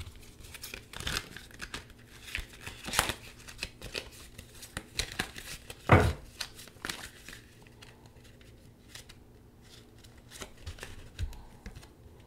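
Tarot cards are shuffled and handled while drawing a clarifier card, giving scattered papery crinkles, flicks and slaps at an irregular pace, with one sharper snap partway through, close up and fairly quiet.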